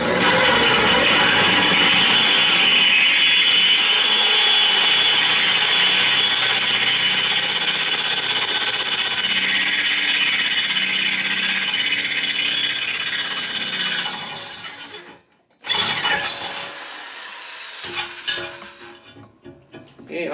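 Drill press boring into a removable tooth plate gives a continuous grinding, whirring drone at low speed for most of the time, then cuts out, leaving clunks and handling noises.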